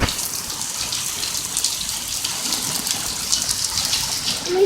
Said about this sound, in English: It's a pretty rain. Look at it rain, guys. Look at the pool.